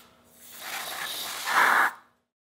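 Aerosol cleaner sprayed onto a Honda CB450/CB550 rear brake in a single continuous hiss of about two seconds, close to the microphone and loud, growing sharper and stronger toward the end before cutting off.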